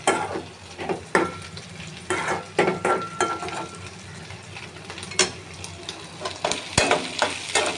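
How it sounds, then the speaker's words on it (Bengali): Boiled green banana and its peel being stirred in a pot to dry off the water, with repeated scraping and clattering strokes over a soft cooking hiss, close and fairly loud, no talking. "এখন আমি পানিটা একদম শুকাই ফেলাবো।"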